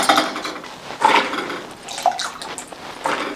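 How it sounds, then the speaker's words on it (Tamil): Water poured into a cooking pot over chopped mixed vegetables, five kinds, for a village-style Pongal kuzhambu, giving close splashing and clattering bursts with short gaps between pours, and no talking. "இப்போ காய் முழுக்கிற அளவுக்கு தண்ணி ஊற்றி வேக வச்சுக்கலாங்க"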